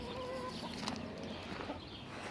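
Indian rooster in a hen coop where eggs are laid, giving soft clucks amid steady farmyard background noise at moderate distance.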